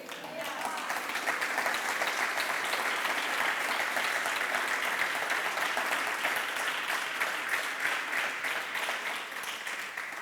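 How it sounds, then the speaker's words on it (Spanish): Steady applause from a church congregation during a sermon, dense and sustained for about ten seconds at a moderate, even level with no break. "eso se merece un aplauso"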